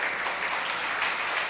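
Dense audience clapping at a religious discourse, a brief steady burst of many hands at even volume.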